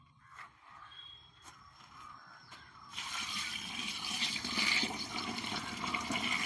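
Water is poured into a bucket of groundnut cake and jaggery to make an organic slurry, with a quiet start followed by a steady splashing fill for the last few seconds.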